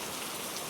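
Steady rain falls in a dense, even hiss, close and unbroken, with no voices.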